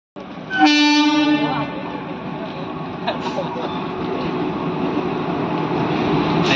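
Train pulling into a station, opening with a loud horn blast followed by a continuous rumbling roll of wagons close by, with voices talking faintly underneath.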